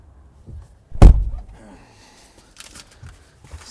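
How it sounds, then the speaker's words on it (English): One sharp, heavy slam of the cab door of a new 2025 Western Star truck rings out close by, followed by quiet rustling and faint breathing. "Let me shut this door."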